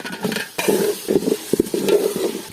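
Fish head dropped into a pot of frying spices, onion, garlic, cumin and ginger paste with turmeric, chili and bay leaf: a loud, steady sizzle broken by several bursts of stirring and scraping.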